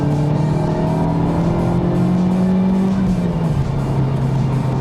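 Honda Civic Type R FK8R engine revving with automatic rev matching while climbing uphill in third gear, a loud, steady, close-up drone with rising and falling pitch.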